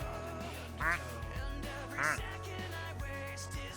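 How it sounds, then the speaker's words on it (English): Duck quacking, a few short bright quacks spaced about a second apart, fairly faint beneath a low hum and quiet background voices. "Blender, have you heard this one's quack?"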